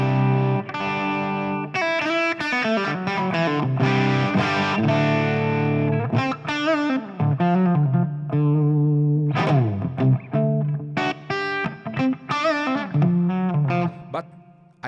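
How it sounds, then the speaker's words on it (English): Distorted electric guitar through a Fractal preset, with a warm, thick tone, playing sustained notes and short melodic phrases, loud and close, with no voices. "There is more distortion, the sound is warm."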